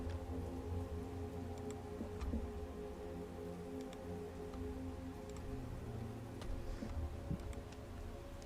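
Steady, quiet rain falls in a relaxing ambient loop, a soft continuous hiss with scattered drips and ticks over a low hum.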